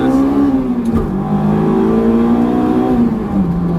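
A Honda S2000 engine revs hard at high RPM, roughly 7,000 to 9,000, giving a loud, close, sustained howling note that holds high and dips slightly near the end.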